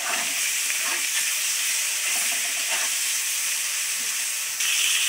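Prawns frying all at once in a pan give a steady, dense sizzle and hiss that holds even throughout, close and loud, with no voices.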